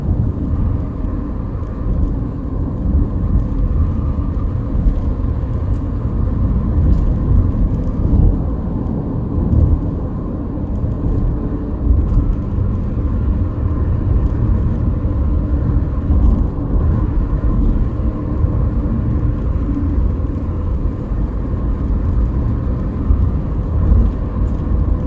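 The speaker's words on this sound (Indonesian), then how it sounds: "Sekarang kendaraan kembali ramai di kilometer 178." Busy night traffic on the Cipali toll road at kilometer 178, a constant loud low rumble of passing vehicles with no distinct breaks, no talk.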